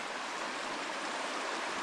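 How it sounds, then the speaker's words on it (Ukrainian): Steady rushing of a mountain river in the Carpathians, a constant broadband wash of flowing water with no breaks, close by and fairly loud. "Гірська річка, супер, да?"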